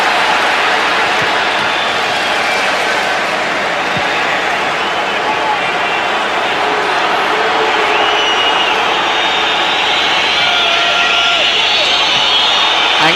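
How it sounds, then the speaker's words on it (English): A football crowd at a Manchester United v Liverpool match in 1996/97 whistles anxiously, a loud, steady stadium roar with shrill whistles rising in it, while a commentator talks over it. "Anxious whistling from the crowd."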